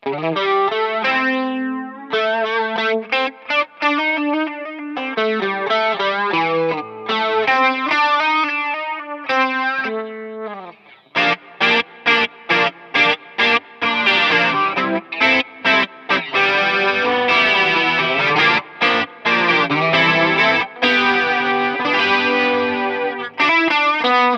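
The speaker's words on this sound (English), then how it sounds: "Stick a bit of drive with it, so I've got the drive on." Electric guitar through a Cuvave effects board with drive engaged: chorused, distorted chords and runs, first clean-ish sustained phrases, then harder strummed, choppy bursts with brief gaps, loud and alone.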